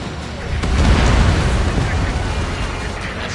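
An enemy bomber blowing up in the air-combat video game Ace Combat, a loud, rumbling, sustained explosion that swells early and slowly fades.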